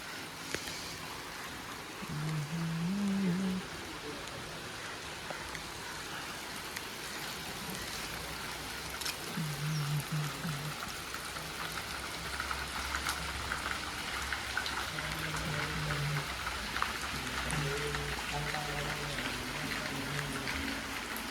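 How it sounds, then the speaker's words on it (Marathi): Rain falls steadily at a house in Khed, Konkan, a soft, continuous patter with faint water noise, plus low tonal sounds coming and going in the background. "पाऊस पण चालू झाला बरं झालं गणपती आणतानाच सुरू झाला पाऊस"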